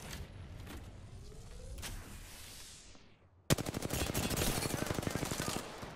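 Gunfire in Apex Legends during an Arenas squad fight: fainter, distant-sounding shots in the first half, then an abrupt switch to a loud, close, rapid automatic burst that continues steadily to the end.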